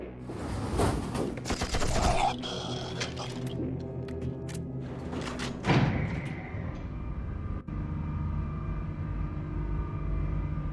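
Machine gun fire in the shooter game You Are Empty: rapid, clustered gunshot bursts crackle close in the first half, with a louder blast near the middle, then fade into a steady humming ambience.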